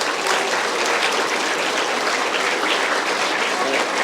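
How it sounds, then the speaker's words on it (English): An audience at a school tribute event applauding, steady dense clapping that fills the room and is loud and sustained. "give a round of applause."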